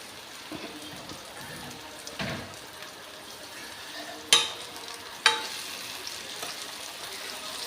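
Ridge gourd curry simmers under a lid in a pan, giving a soft, steady sizzle with two sharp clicks partway through and no talking.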